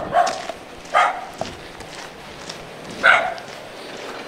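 A protective mother dog with puppies barks outdoors in Arviat, giving a few sharp, separated barks at moderate distance over a faint background of footsteps and ambient noise.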